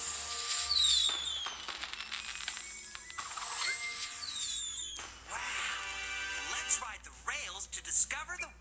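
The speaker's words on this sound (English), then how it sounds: "And look at all the fireworks." Fireworks crackle and whistle in an electronic game soundscape, with rising whistles and bursts over music and background chatter.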